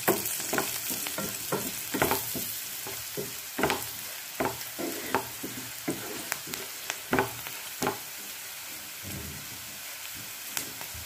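A spoon stirs and scrapes through a sweet potato mixture cooking in a pan, with repeated sharp scraping strokes over a steady sizzle close by.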